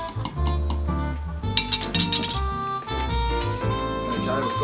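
A spoon clinks against a cup while Milo powder goes into hot water. The bright metallic taps are loud and repeated, ringing over a busy, resonant background.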